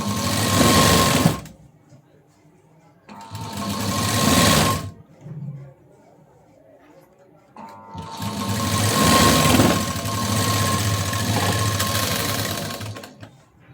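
A sewing machine stitches a cross strip onto fabric, running in three separate bursts with quiet pauses between, the longest run whirring steadily near the end.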